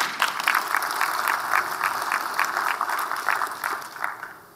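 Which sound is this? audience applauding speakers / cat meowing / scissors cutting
audience applauding speakers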